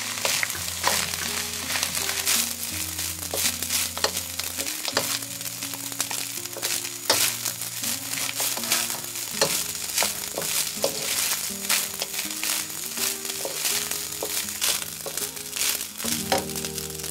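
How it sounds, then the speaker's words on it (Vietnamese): Egg and leftover rice fry in a hot pan, a continuous close sizzle broken by repeated scraping and clinking strokes of a utensil stirring and tossing the mixture. "Đảo đều đến khi phần trứng chín hết ha."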